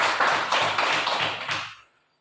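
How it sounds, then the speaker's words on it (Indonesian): Children in a classroom clap their hands together in a quick, rhythmic group pattern, loud and close, ending abruptly and leaving silence. "tepuk tangan balik ya"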